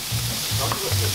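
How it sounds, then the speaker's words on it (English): Korean barbecue meat sizzling on a grill in Seoul, a close, steady frying crackle with three low pulses as pieces are stirred or turned, no talk. "Today we're munching on Korean barbecue, and boy oh boy, sizzle alert!"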